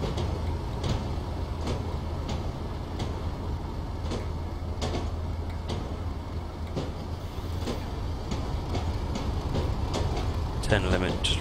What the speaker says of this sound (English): just reversing train gently back into the depot